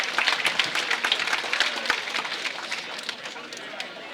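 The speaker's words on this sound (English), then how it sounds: "we want to give a big round of applause to John Carbone and the staff at the main place" Dinner guests at a sports awards night applaud the restaurant staff; brisk, close clapping starts strong and gradually thins out and fades over a few seconds.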